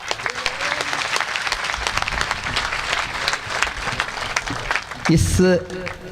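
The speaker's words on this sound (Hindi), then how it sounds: "जोरदार तालियां।" Loud, sustained audience applause fills a hall after a dramatic poem recitation, dense clapping throughout with a brief voice near the end.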